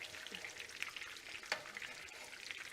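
Flounder fillets frying in a pan, a soft continuous sizzle with scattered small pops and crackles, fairly faint and close, no talking.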